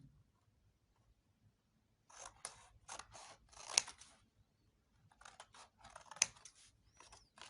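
Scissors cut paper for a pop-up chart in two close, quiet bursts of crisp snipping and rustling, separated by near silence.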